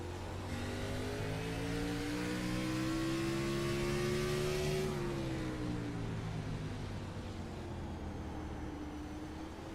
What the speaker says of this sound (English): Nothing sounds like that glorious V8 underneath the hood.